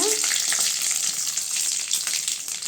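Curry leaves and dried chillies hit hot oil in a pan for a yellow pumpkin stir-fry, giving a loud, dense, crackling sizzle that spatters steadily and close without a voice.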